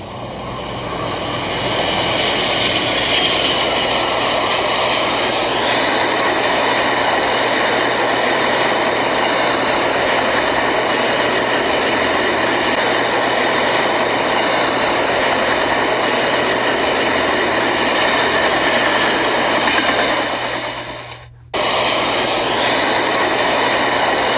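Diesel locomotive number 3001 running, a loud steady engine roar and drone that holds for over twenty seconds, briefly cutting out near the end before resuming, with no voices.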